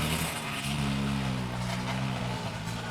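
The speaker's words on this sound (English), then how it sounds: "And there's some kids on dirt bikes back there." Dirt bikes ridden by kids some way off give a steady, distant engine drone with a slight rise and fall in pitch, carrying on alone without speech.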